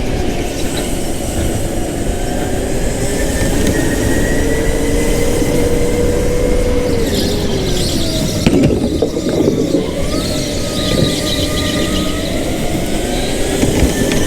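Go-kart tires squeal and slip on an indoor karting track, a loud sustained rubbery screech with rising and falling pitch over the steady drone of kart engines, with a sharper scrape partway through.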